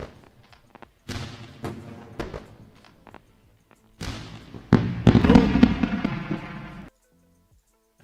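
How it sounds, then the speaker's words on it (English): A fireworks sound effect with a string of sharp pops and crackles in bursts, separated by short quiet gaps, then building into a dense, loud crackling barrage before stopping abruptly. "That's another full fireworks show."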